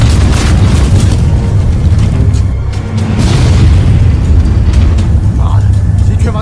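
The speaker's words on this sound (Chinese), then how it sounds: "继续开炮！" Tank cannon fire from an animated League of Legends cartoon, heavy booming blasts under loud, overlapping voices in a noisy battle scene.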